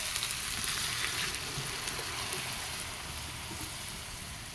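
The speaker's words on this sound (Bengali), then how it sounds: "আদা রসুনটা দিয়ে আবার আদা রসুনটাও একটু ভাজবো" Ginger and garlic frying in a pan, a steady close sizzle with a soft crackle running throughout, no voices.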